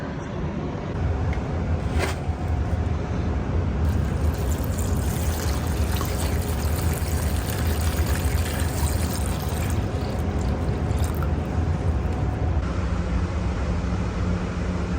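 Water pours steadily and continuously at close range into a tray to bottom-water indoor tomato seedlings, a constant splashing rush with no pauses.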